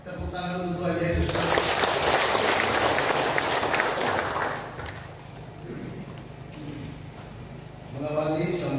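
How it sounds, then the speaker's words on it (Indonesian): Audience applause at a church inauguration ceremony in Kampung Barawai, a broad crowd clapping that swells loud after a spoken opening, then eases to a softer patter under talk before voices return. "Tepuk tangan untuk Tuhan Yesus"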